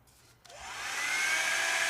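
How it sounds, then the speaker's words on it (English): A hair dryer switches on after a brief pause and its airflow whoosh climbs to a steady, fairly loud whine with a high motor tone that holds to the end. "I love the hair dryer too"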